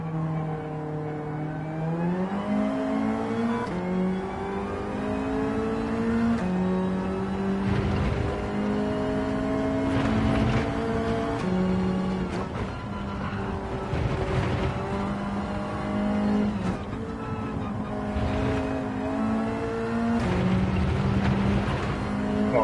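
Race car engines in Gran Turismo 7 roar loud and continuous, revving up and dropping through gear changes, with brief bursts of tire squeal as the cars work through corners.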